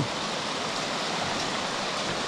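Water pours steadily at Tuay Falls, a waterfall swollen by rainy-season rain, making a dense, unbroken rushing roar that sounds close and holds an even loudness throughout.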